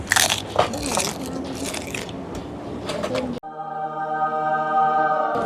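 Close, crisp crunching of fish roe from a Thai sour curry being chewed at a seafood restaurant, with several quick bites over about three seconds before an abrupt cut to a steady tonal hum.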